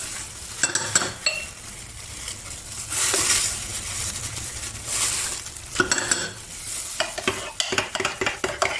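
A mixture being stirred in a pot on the stove for homemade ketchup, with scraping and clinking of a utensil against the pot under a soft sizzle, rhythmic and close, growing into quick repeated strokes toward the end.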